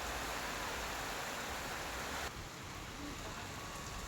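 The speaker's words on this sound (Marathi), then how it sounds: "वाऱ्यासह जोरदार पावसानं हजेरी लावलेली आहे." Heavy unseasonal evening rain with wind makes a dense, steady hiss with no talk; the sound drops slightly in level partway through.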